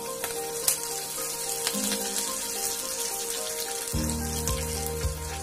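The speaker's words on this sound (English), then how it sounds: "Saute well until chana dal and urad dal turns into golden brown." Chana dal, urad dal and curry leaves sautéing in hot oil, a steady crackling sizzle with intermittent clinks and scrapes of a spatula, close and moderately loud, with no voices.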